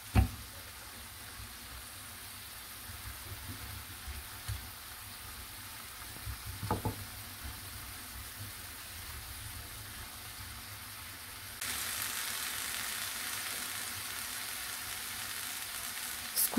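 Green peas and flat beans cooking in a pan give a soft, steady sizzle with occasional stirring clatter. Near the end a louder hissing rise sets in.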